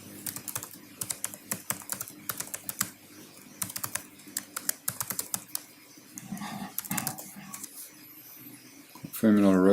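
Someone types a login password on a computer keyboard, a close run of quick, irregular key clicks in bursts, with a short pause before a louder final sound at the end.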